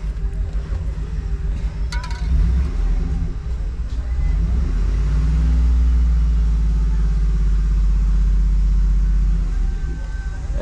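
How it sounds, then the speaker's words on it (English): A 2010 Ford F150 engine, running after a lower steering shaft replacement, is revved from idle: a low rumble swells and holds at higher RPM, then settles, with a few faint clicks early on. "so let's give her a little bit of RPM."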